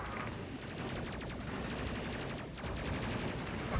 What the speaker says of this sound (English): go for a focus fire again to make our shooting a little bit more accurate